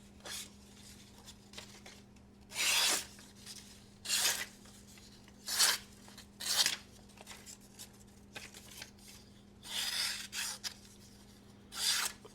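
A sharp, acute-pointed CMB gentleman's knife slices through paper in about eight separate rasping strokes, each a brief, crisp scrape spaced a second or two apart over a faint steady background hum.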